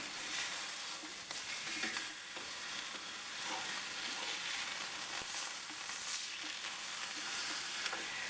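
Beef sears in a pan for vegetable beef barley soup, a loud, continuous sizzle and crackle that stays even throughout with no talking.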